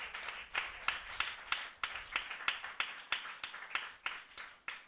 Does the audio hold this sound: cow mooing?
no